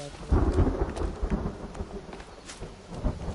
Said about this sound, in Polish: O, chyba pada deszcz, więc water collector.